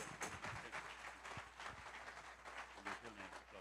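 A church congregation applauds for a pastor with sustained clapping and scattered cheers, somewhat faint, while a voice speaks over it.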